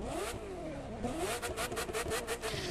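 A Ferrari F40 engine in The Crew 2 revs hard and repeatedly, with rapid rising and falling throttle blips in quick succession, close and loud.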